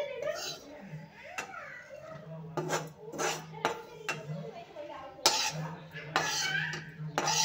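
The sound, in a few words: golden roasted coconut taken out of pan with utensil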